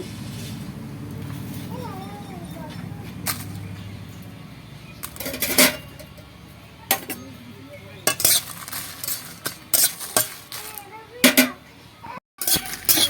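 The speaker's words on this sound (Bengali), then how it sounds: "লঙ্কাগুলোকে আগে ভেজে নেব" Dried red chillies with panch phoron are fried in a pan for a Bengali raw mango pickle, with a low background hum followed by repeated sharp clinks and scrapes of a spoon stirring against the metal pan, and faint voices nearby.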